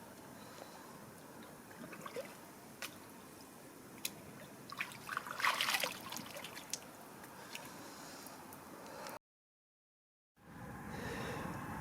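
Water trickles and drips near the bank of a gravel-pit lake as a carp is released back in during winter fishing, soft splashes and a brief louder slosh, then a short dropout of sound.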